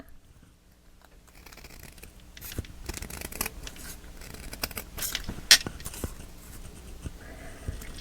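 Scissors snipping through paper for a handmade photo album, a series of close, crisp cuts and rustles building from quiet into steady snipping with one sharper click midway.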